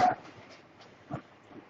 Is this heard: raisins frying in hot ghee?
no